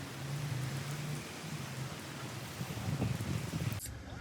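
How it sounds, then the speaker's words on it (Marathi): Rain falls in Mumbai as a soft, steady patter on surfaces, fairly faint and continuous, and stops abruptly near the end. "पाऊस सुरू आहे."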